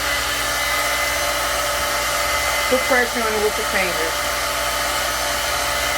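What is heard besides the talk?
blow dryer drying hair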